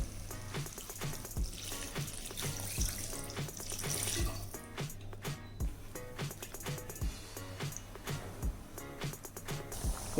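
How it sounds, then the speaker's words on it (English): Water poured from a tap into a pan of potato masala, a steady running splash with faint kitchen clatter, fairly close and without voices. "We shall add water as required"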